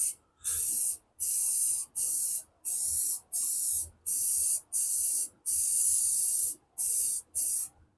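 An aerosol can spraying white paint onto the axle of a dual jet ski trailer, in about ten sharp, hissing bursts of roughly half a second to a second each, close by, separated by short silent gaps.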